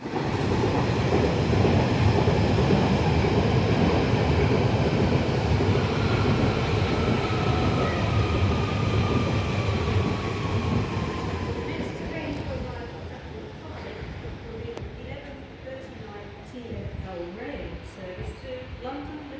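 A train rolls into a platform at Stratford station in London, a loud sustained rumble with a rising squeal as it brakes, then fades to quieter clatter and station ambience while people talk.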